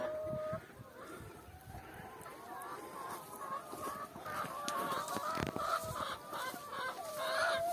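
Chickens cluck and murmur close by on a muddy farm, a steady run of overlapping calls with occasional sharper squawks and faint background noise.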